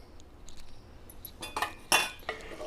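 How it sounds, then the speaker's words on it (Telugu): A metal spoon stirs mashed dal and water in a pot while making sour amaranth-leaf curry. It gives quiet clinks and scrapes, then a few louder, sharper knocks against the pot near the end, with no talk. "ఇదంతా బాగా కలుపుకోవాలా"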